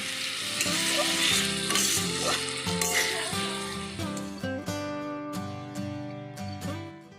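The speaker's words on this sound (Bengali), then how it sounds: "আদা ও কাঁচা লঙ্কা বাটাটা দিয়ে প্রায় দু মিনিট আলুর সাথে কষিয়ে রান্না করব" Potatoes frying with ginger and green chili paste in a pan, a loud continuous sizzle with crackling spatters and stirring, while music plays underneath.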